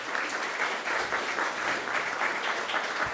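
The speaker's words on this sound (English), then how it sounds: "Can I please have another warm round of applause for Dr." An audience at a talk on responsible AI gives a warm round of applause, a thick, even wash of many hands clapping, fairly loud and continuous with no speech over it.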